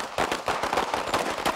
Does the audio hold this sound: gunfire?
yes